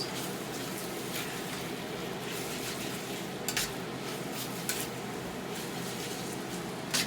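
Beef stir fry in a pan, a continuous dense sizzle held at a steady level, with a few faint clinks of a utensil against the pan.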